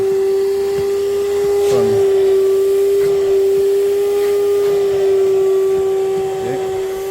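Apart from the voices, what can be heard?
vacuum cleaner cleaning under car seats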